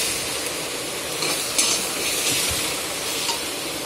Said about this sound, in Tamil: தேங்காய், வெங்காயம், கருவேப்பிலை, கொத்தமல்லி இதை நல்லா வதக்கிக்கோங்க